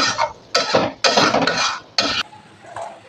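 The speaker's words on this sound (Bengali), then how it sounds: "হয়ে গেছে ঝোল, এবার নামিয়ে নেব।" Pot of katla fish curry with potato and brinjal being taken off the stove: close metallic clanks and scraping of utensil against the pot in several short bursts, with faint sizzling between them.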